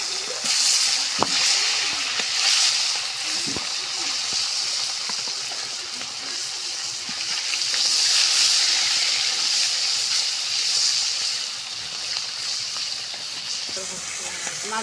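Fish frying in hot oil in a home kitchen, a loud, steady hissing sizzle with occasional pops and crackles that stays constant across the whole stretch.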